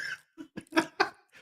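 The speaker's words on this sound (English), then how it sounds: "We got to hear the munching sounds too." Someone munching on fries close to the microphone, a few short crunchy chewing bursts separated by brief pauses.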